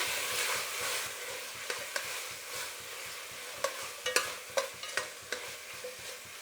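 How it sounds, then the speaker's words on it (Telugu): Tomatoes frying in a pan with salt and turmeric while being stirred, a steady soft sizzle under a run of sharp scraping stir strokes that cluster toward the end, with no voices. "ఇప్పుడు ఈ టమాటా అంతా బాగా మగ్గాలండి, వేయించుకోవాలి."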